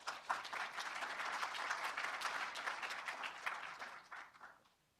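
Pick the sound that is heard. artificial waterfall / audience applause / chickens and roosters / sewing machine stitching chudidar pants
audience applause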